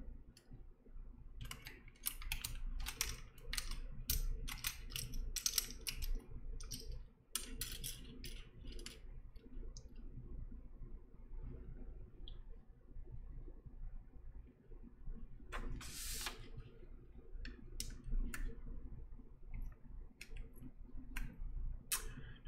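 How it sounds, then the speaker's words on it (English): PBT keycaps are pulled off a mechanical keyboard, producing scattered light plastic clicks and snaps at an irregular pace against a quiet room, with brief pauses between bursts. "I take keycaps off of this other board"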